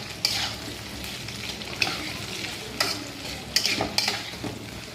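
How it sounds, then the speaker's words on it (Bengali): Onions fry in a pan for chicken posto, a steady sizzle broken by several sharp scrapes and clanks as a utensil stirs them, close and alone with no talk. "এবার এইগুলো লাল করে একটু ভেজে নিচ্ছি।"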